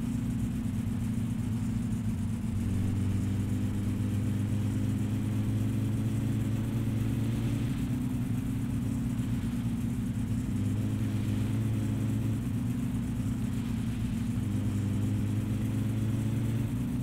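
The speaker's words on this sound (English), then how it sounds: "Friggin' car is so loud, no muffler." A car engine with no muffler in the My Summer Car driving game drones loudly and steadily, with low rumbling harmonics that rise and fall through repeated revs, no voices over it.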